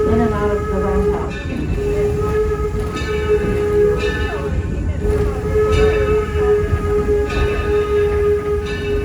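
Excursion train rolling along the track on the Torch Lake line, a steady close rumble of wheels and carriages with a sustained tonal hum and faint rhythmic clicks, with voices softly in the background.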